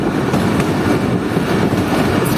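Jaffer Express, a Pakistan Railways train, rumbles past a railway station in a steady, loud, continuous roar of wheels and carriages with no talk over it.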